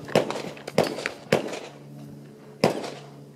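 Single pistol shots fired at an outdoor shooting range during a beginner turn-and-side-step drill: four sharp, loud reports, the first three about half a second apart and a fourth after a pause, each leaving a short ringing tail.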